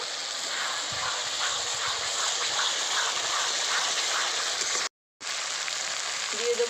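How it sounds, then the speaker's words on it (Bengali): Ground spice paste for chicken sautés in a pan, giving a broad, continuous sizzle that holds steady, drops out briefly near the end, then returns. "এবার মশলাটা ভালো করে অনেকক্ষণ ধরে কষিয়ে নেব"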